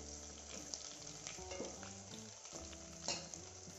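Ground garlic and chili paste sizzling in a pan, a steady dense frying hiss broken by occasional stirring scrapes, with no voices.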